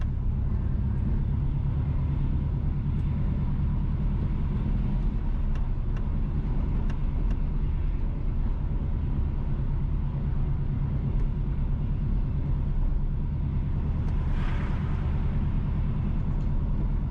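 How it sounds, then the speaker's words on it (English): A car driving along a rural road in St. Mary Parish, Jamaica, heard from inside as a steady low engine and road rumble with continuous tyre noise and no talking. "We are driving on Baileysville Road."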